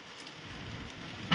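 Summer rain with thunder in Okhamandal, a steady wash of rainfall with a low rumbling undertone and a brief louder burst at the end, with no one speaking.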